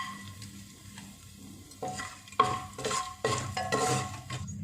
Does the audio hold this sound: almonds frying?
yes